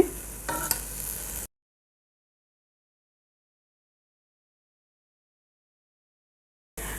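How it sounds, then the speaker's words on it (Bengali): Tomatoes frying in a covered pan are flipped over, giving a short burst of hissing sizzle and a clatter for about a second and a half before the sound cuts to near-silence, with a brief return of sizzle at the very end. "টমেটোটা এক পিট হয়ে গেছে জাস্ট একটু উল্টিয়ে দিচ্ছি"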